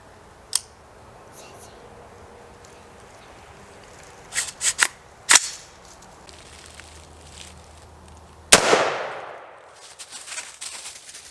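Gunshots fired at a target while kids get sighted in for Oklahoma hunting season: a few sharp outdoor cracks, one loud close shot near the end ringing out, with quieter pops and handling noise between.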